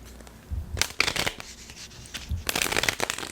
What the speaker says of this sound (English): And last shuffle.